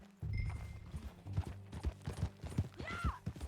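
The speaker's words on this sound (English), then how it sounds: "Get on your horse, John." Horse hooves clip-clop at a riding pace in Red Dead Redemption 2, a quick rhythmic run of hoofbeats with a brief whinny near the end, heard alone at close range.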